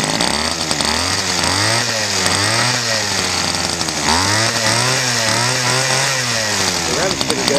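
A Homelite Bandit SX-135 25cc two-stroke engine snarls close and loud, revved up and down repeatedly in a rising and falling buzzy rhythm.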